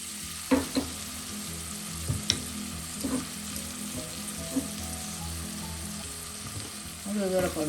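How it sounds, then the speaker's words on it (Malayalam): Shallots sizzle and fry in hot oil with crushed ginger and garlic for a Kerala spicy sole fish curry, a steady close crackle with a few sharper stirring clinks and scrapes throughout. "കൊച്ചുള്ളിയൊക്കെ ചെറുതായി ഒന്ന് വാടുമ്പോൾ ചതച്ചിരിക്കുന്ന ഇഞ്ചി വെളുത്തുള്ളി ചേർക്കാം"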